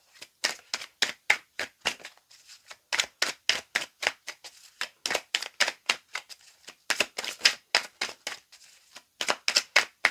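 Romantic tarot cards being cut and shuffled, a long series of crisp riffling snaps in quick bursts with short pauses between, close and clear with no talk.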